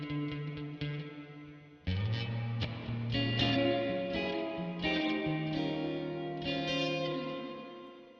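Electric guitar through a DIY reverb, tremolo and delay pedal in dry mode with added reverb: a chord, then a strummed phrase of sustained chords with a lush reverb tail, played alone.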